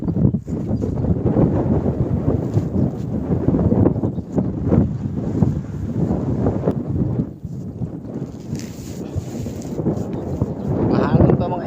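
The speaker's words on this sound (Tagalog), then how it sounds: "Mahangin pa mga idol, grabing hangin." Strong wind gusts across Laguna lake, heard from a boat, as a steady loud roar of buffeting microphone noise that surges and dips for about twelve seconds with no clear talk.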